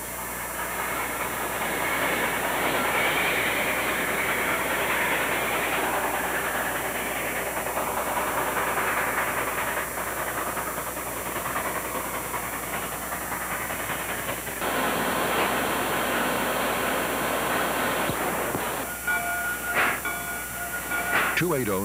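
Illinois Central 2-8-0 steam locomotive hauling a local train on a workaday Kentucky steam railroad, a steady rumbling roll of wheels and cars lasting throughout, loud and continuous, with a person talking over it.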